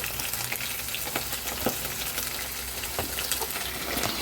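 Sesame seeds fry in a pan with a soft, steady sizzle dotted with small pops and crackles, quiet and close, with no talking.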